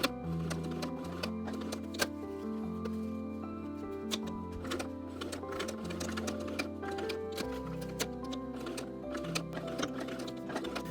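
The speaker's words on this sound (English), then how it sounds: "So I'm going to sew here to the middle and out to this corner." A sewing machine stitches bias binding along a seam toward a corner: a continuous motor whir with rapid needle ticking that shifts pitch partway through as the speed changes.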